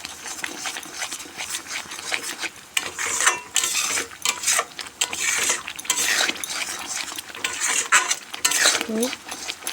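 A spoon scrapes and clatters continuously against a metal pot while chicken curry is stirred, making irregular metallic rattles and scraping strokes close up with no speech.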